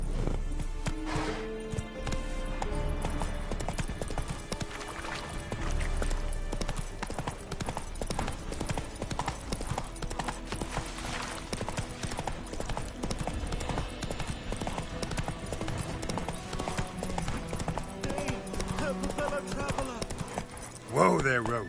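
A horse trotting in the video game The Witcher 3: Wild Hunt. Rhythmic clip-clop hoofbeats continue loudly and steadily throughout, with occasional whinnies, while someone talks over the galloping.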